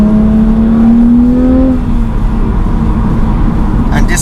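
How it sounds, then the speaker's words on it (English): A BMW Z4 Coupe with a 262 bhp engine revs loud and close, its pitch climbing steadily before easing off into a sustained steady drone. "And this car loves to rev."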